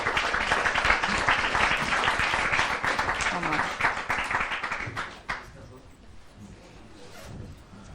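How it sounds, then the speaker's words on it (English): Audience applause at a live demo day event, dense broadband clapping for about five seconds before dying away into quieter room sound. "clap."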